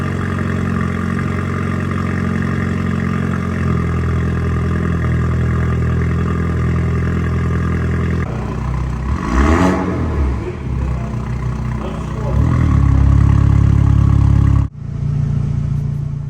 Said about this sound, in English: while we're talking about the exhaust, here's how it sounds.